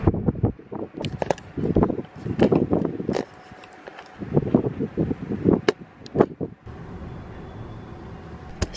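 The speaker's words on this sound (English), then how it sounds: "it's just been super windy" Strong gusts of wind blow outdoors on a London street, with broad buffeting bursts and rumbling wind noise on the microphone rising and falling throughout, with no speech.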